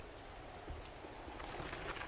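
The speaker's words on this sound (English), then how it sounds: "Alright, we don't care if it's raining." Rain falling in the survival game 7 Days To Die, a soft, steady hiss of drops that stays faint and continuous throughout.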